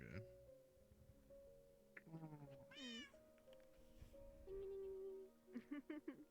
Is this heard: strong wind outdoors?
no